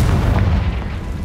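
The Confringo fire curse from Hogwarts Legacy going off as a loud, close, deep blast that rumbles heavily through its short length.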